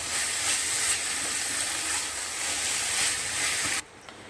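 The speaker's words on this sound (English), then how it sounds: "So now we will have it fried up dry, so there shouldn't be any water" A chicken patty mixture sizzles steadily in a hot pan over high gas flame, a loud, close, continuous hiss that swells slightly and then drops away abruptly near the end.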